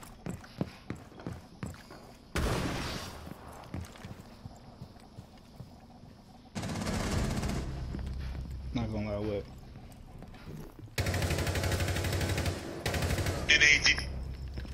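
Gunfire in the tactical shooter Rainbow Six Siege, with ARX and MP5-type rifles, comes in loud dense bursts several seconds long between quieter gameplay sounds, with players talking over it.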